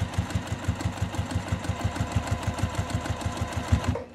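A sewing machine top stitches a pressed seam on a crossbody bag, its steady rapid needle rhythm chattering close and loud for about four seconds before stopping abruptly.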